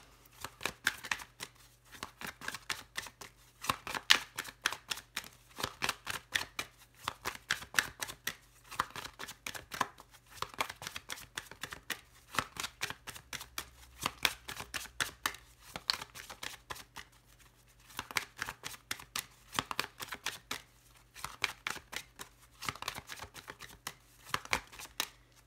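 Oracle cards being shuffled before a tarot-style reading, a quiet, steady run of crisp riffling and flicking bursts that repeats throughout with no talking.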